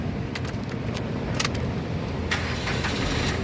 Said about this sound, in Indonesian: berikutnya coba kita nyalakan mobil ya